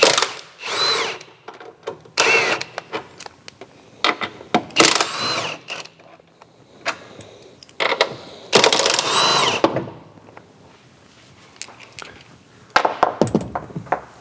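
Impact gun or power drill zipping off 15mm nuts on a Mustang strut assembly, several short loud bursts separated by pauses, close up with workshop clatter between.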